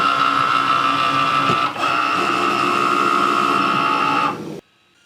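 Fabric cutting machine driving a rotary cutter through medium-weight cotton, a loud steady mechanical whir with a brief hitch partway before it stops abruptly near the end.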